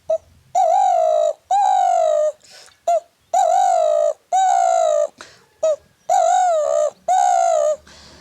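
A human voice imitates the call of a kure dhukur dove, producing about eight repeated hollow, wavering coos in a steady rhythm, close and clear with short pauses between them.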